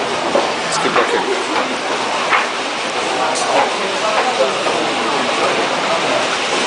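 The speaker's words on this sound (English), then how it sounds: "There's a train." A train rumbles by with a continuous, moderately loud roar and faint rhythmic clacking that holds steady throughout.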